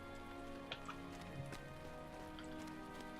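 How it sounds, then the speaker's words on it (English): Steady rain in the online role-playing game Lord of the Rings Online, a continuous soft hiss at low level with a few faint taps, with no one talking. "Now, if it wasn't raining, you can see a lot farther, but since it's raining, vision is obscured."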